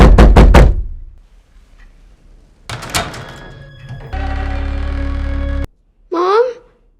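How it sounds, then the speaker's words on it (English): Several loud, heavy knocks on a bedroom door, followed by a low hum, a creak as the door opens, and a sharp thud, with a rising eerie tone at the end, in a horror film. "he dreams of hearing loud knocking on his bedroom door"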